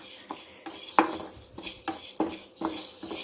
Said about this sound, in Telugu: ధనియాలు అయితే వేసుకొని లైట్గా ఫ్రై చేసుకుందాం